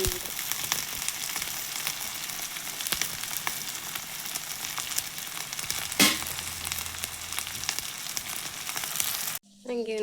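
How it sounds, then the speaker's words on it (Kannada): Okra frying in a pan for a Karnataka-style palya, a steady close-up crackling sizzle with faint stirring and one brief sharp clatter near the end. "ಫಸ್ಟು ಇದನ್ನು ಬೆಂಡೆಕಾಯಿ ಹುರ್ಕೋಬೇಕು ನೋಡ್ರಿ, ಚೆನ್ನಾಗಿ ಹುರ್ಕೊಂಡು ಆಮೇಲೆ ಎಲ್ಲ ಪದಾರ್ಥ ಸೇರಿಸ್ಬೇಕು."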